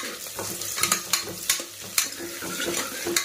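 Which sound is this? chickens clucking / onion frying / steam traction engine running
onion frying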